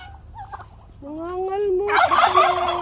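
Pet turkeys gobble in a home garden, a rising warbling call followed by a loud burst of rapid gobbling near the end, fairly close and with no talk.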